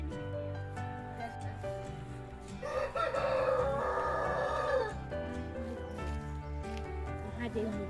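A rooster crows loudly at a village farm of free-range desi chickens in a hill settlement, one long call rising over a steady din of other birds and background noise.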